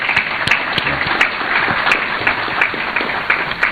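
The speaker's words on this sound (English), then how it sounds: "May we clap for the President?" Guests at a state banquet applaud the President, a continuous, fairly loud patter of many hands clapping close by with small bursts and no speech over it.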